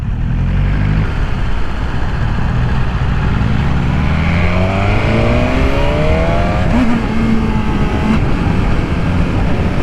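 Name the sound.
2020 BMW S1000RR motorcycle engine accelerating through gears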